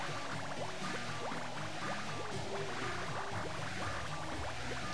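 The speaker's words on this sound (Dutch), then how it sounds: "Alleen al geluid al van bubbels." Dense, continuous underwater bubbling from the Paper Mario: The Thousand-Year Door video game, with many small rising bubble pops layered over a steady watery wash that holds an even level throughout.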